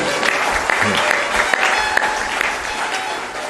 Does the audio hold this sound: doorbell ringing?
no